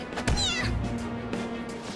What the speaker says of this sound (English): What the... goddamn cat!